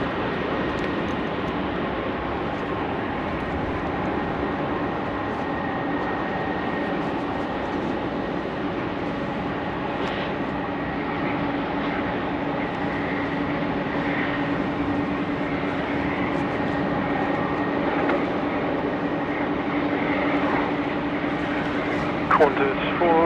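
Qantas flight 497, an airliner, taxis at Sydney Airport at night, a steady engine rumble and whine drawn out over a long stretch, with faint voices and radio chatter over it.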